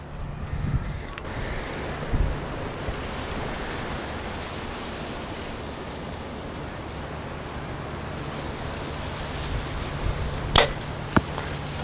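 An arrow is shot from a Backyard Bows Edge 320 bow outdoors, giving a sharp snap early on and a crisp impact crack near the end over steady wind and broadband background hiss.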